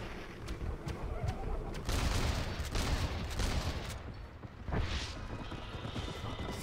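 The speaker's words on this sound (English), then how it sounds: "that machine gun had better work after all this" Machine gun fire in Red Dead Redemption, dense crackling bursts at moderate loudness mixed with horse sounds and game ambience, no talk.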